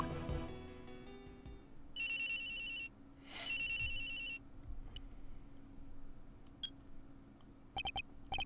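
A flip phone ringtone from the video game Ace Attorney Investigations 2 rings in two bright, steady bursts, followed by a brief third chirp near the end, over a low ambient hum.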